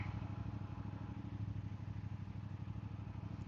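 A CFMoto 450 CL-C motorcycle being ridden, its engine giving a steady, pulsing mid-pitched drone with a slight rhythmic throb, fairly faint and continuous with no talk over it.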